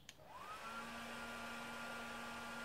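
A hair dryer switched on at an airsoft ping-pong Easter shooting session, whirring up to speed and holding a steady, loud drone with a constant hum throughout, no voices.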